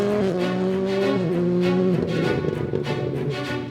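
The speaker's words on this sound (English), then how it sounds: "3 newly built Rallycross Subarus stretch their legs for the first time away from home soil." Newly built Subaru rallycross cars driving at an airport, engines revving loudly and close with shifting pitch as they accelerate, tyres scrubbing and squealing under the roar.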